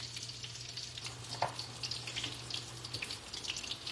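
Shrimp egg foo young patties crisping in a frying pan give a steady, moderately quiet sizzle with small pops and crackles throughout, alone with no talk.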